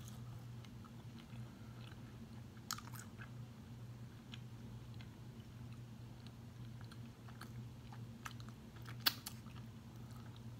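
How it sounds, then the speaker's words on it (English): Someone chews salt and pepper chicken wings close up, soft wet mastication with scattered small crunchy clicks over a steady low background hum, no voices. "Not like tough, but just like I'm chewing a lot."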